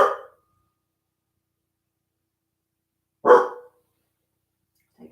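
Indoors, a dog gives two loud, sharp barks about three seconds apart, each short and close, with a faint start of a third at the end and silence in between.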